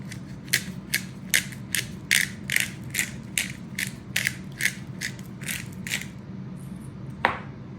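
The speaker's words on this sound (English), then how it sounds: "Open up our pepper grinder." A pepper grinder cranks out fresh pepper in a quick run of about fifteen sharp, ratcheting clicks, close and fairly loud, over a steady low background hum.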